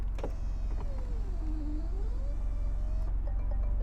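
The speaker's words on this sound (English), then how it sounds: "pull up that switch, and we'll see the cloth top rise up very nicely." Cloth roof of a 2021 Jaguar F-Type convertible powering up, a steady motor whine with a rising and falling pitch over a low idling rumble, close and continuous for about three seconds before stopping.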